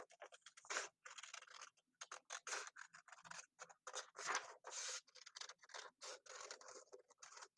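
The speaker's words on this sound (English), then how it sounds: "I'm going to cut out this green circle and see if I like that any better." Scissors snip through green paper to cut out a circle, giving a run of short, crisp cutting strokes in an irregular rhythm at close range with brief pauses between, and no talking.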